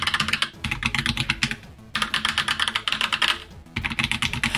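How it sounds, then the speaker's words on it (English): Rapid mechanical keyboard typing on a KZZI K75 Pro with tactile switches, close and loud, in three bursts of dense clacking keystrokes separated by brief pauses, with no voices. "And here's how the K75 Pro sounds like."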